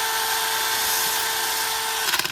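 A drum sander whines steadily at high pitch against the rusty body of a Mazda MX5 NC, loud and close, then winds down with a few quick rattling pulses at the end.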